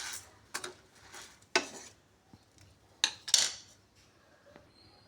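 A spoon or spatula clinks against a pan while fried toor dal is scooped out: a few sharp metallic taps and scrapes spaced irregularly, close by, with quiet gaps between.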